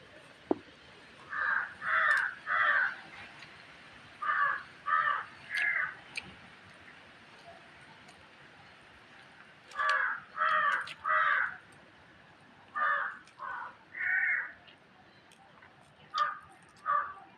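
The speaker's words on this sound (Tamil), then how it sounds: "அது காக்கா நம்ம வீட்டுக்கு வரல, அடுத்த வீட்டில் இருக்கு" A crow caws nearby in repeated groups of two or three harsh calls with pauses between, clear and fairly close over a quiet outdoor background.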